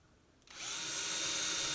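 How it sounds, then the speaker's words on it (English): A power drill spins up suddenly and holds a steady high whine, boring screw holes in the back of an acoustic guitar headstock for the machine heads; close and uninterrupted. "and then I drill the holes for the screws in the back"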